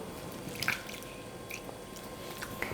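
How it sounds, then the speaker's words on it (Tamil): Wet squishing of idli batter being kneaded by hand with added water, soft irregular squelches and drips, close and quiet over faint background hum. "போண்டா பதத்துக்கு நம்ம மாவு இப்போ பிசையணும்."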